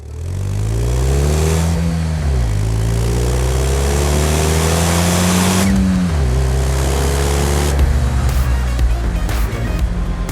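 The two-cylinder Twin Air engine of a 2014 Fiat 500C drones loudly and close, its pitch rising steadily through the gears with brief dips at each shift.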